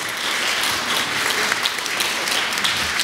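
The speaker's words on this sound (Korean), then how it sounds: "큰 박수로 환영해 주시기 바랍니다." Lecture-hall audience of roughly a hundred people applauding to welcome a speaker, dense continuous clapping throughout, near and fairly loud, with no talking.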